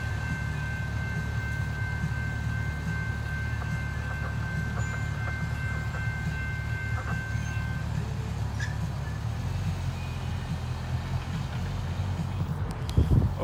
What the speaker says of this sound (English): Another train going down the hill.